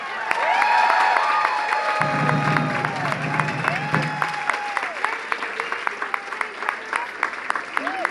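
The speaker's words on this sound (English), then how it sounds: "Another round of applause" Audience applause with scattered cheering fills a gala hall, loud and steady, while a voice talks over the clapping for part of the stretch.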